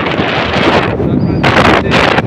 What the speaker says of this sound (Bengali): ঝোড়ো হাওয়া, সেই সাথে বৃষ্টি সহ